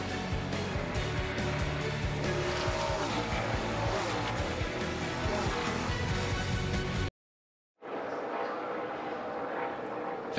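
NASCAR Xfinity Series race cars scream around Road America in a loud, sustained engine roar with shifting pitch as they pass. After a short silence the sound resumes more distantly, with a commentator talking over it.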